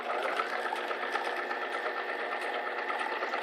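A sewing machine stitches ribbon onto a fabric strap with matching thread, a steady, fast, continuous mechanical whir running evenly and close up with no pauses.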